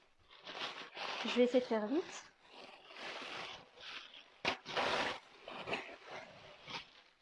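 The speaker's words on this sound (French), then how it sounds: "désolé pour le bruit de papier" Crinkling, rustling paper packaging handled during an unboxing of men's products, in broadband bursts with a few sharper tears, under someone speaking French close to the microphone.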